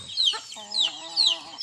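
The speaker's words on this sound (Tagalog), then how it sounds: "So ito sila guys. Ito yung mga manok ko. Ano sila guys, native chicken." Native chickens clucking on a provincial farm, with repeated bursts of clucks and calls in a steady rhythm. The birds sound close and moderately loud, and no one speaks.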